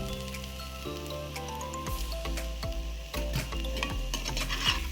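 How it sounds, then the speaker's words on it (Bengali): Potatoes with nigella seeds and dried chili frying in oil in a hot pan, stirred repeatedly with scraping clanks over a continuous soft sizzle, close and fairly quiet. "গরম ফ্রাইং প্যানে সাদা তেল 2 চামচ, 2 চামচ কালো জিরে, শুকনো লঙ্কা আর আলুগুলোকে দিয়ে দিতে হবে।"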